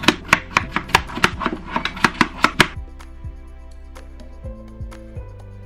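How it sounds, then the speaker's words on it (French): A knife chops peeled potatoes into cubes on a board, a quick run of about a dozen sharp, even knocks, then a few scattered scraping sounds and quiet handling noises with no talking. "Je vais les couper en carrés, pas trop fin ni trop épais."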